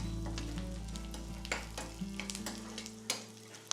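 Peanuts and split roasted gram frying in a pan for aval mixture, a steady close sizzle with scattered sharp scraping stirs and clicks throughout, alone without any voices.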